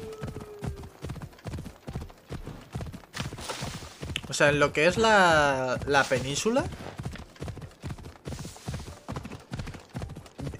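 Regular clip-clop of horse hooves from Assassin's Creed Odyssey, steady riding rhythm throughout, with a horse whinnying in the middle and someone talking over it.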